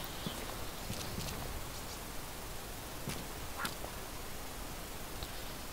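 Faint, brief bird calls sound in the video game DayZ, a few scattered chirps far off over a steady wash of outdoor noise, with no talking.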